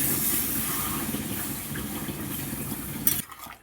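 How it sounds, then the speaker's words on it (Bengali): Water pours steadily into a cooking pot, a continuous close splashing gush that runs for about three seconds before stopping abruptly, leaving near quiet. "দেখো জল দিয়ে দিলাম।"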